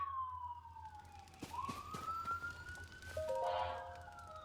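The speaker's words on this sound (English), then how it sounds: "That one's an ambulance, I think." A distant ambulance siren wails outdoors, its tone sliding down and then slowly rising in a long sweep, faint and heard alone with no talking.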